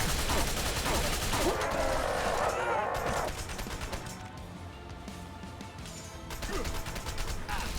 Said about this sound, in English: To whoever may concern, that's a grenade.